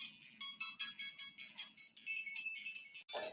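A phone ringtone plays alone in a quick repeating melodic pattern, bright and steady, then cuts off at the end.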